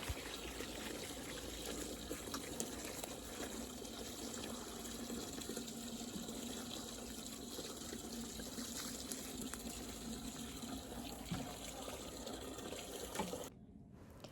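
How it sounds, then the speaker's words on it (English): Water runs steadily onto the roots of garden tomato plants, a soft continuous hiss and gush that stays even for about thirteen seconds, then cuts off abruptly, with no talking. "when watering tomatoes: try to just water their roots"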